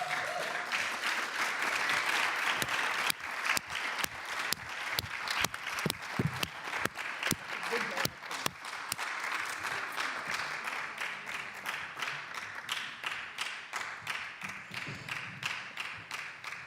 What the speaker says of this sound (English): I want all of us to give a round of applause in a big way